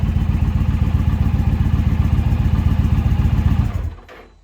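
An Indian Challenger motorcycle engine runs close by with a rapid, steady pulsing throb and some clatter, then is switched off and quickly falls silent.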